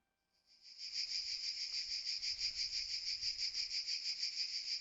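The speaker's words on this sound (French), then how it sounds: "Les cigales." Cicadas chirping in a flight simulator over the Ardèche gorges, a loud continuous buzzing trill that fades in quickly and then pulses steadily, alone without talk.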